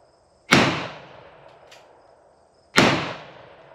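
Two sharp revolver gunshots fired one-handed at an outdoor target range, loud and close, each with a quick crack and a fading echo tail, spaced about two seconds apart.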